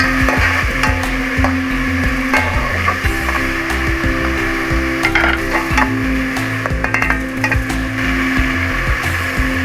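Whole spices, including cinnamon pieces, bay leaf and green and black cardamom, fry in hot oil for kabuli chana pulao with a steady close sizzle, broken by scraping and stirring in the pan.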